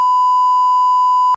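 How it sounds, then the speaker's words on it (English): A censor bleep from a beep button: one loud, steady, pure electronic tone held for about a second and a half, alone and ending abruptly. "That's why we have a beep button"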